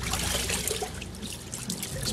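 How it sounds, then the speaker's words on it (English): Urban floodwater, putrid and contaminated, sloshing and trickling close by as someone wades through it: continuous splashing and dribbling with uneven surges, no talk. "I'm sloshing around in a trillion gallons of water"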